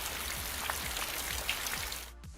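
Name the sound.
rain sound effect in Adobe Animate animation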